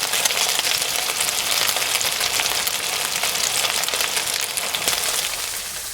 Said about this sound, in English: As you can probably hear, the sausages are cooking really well.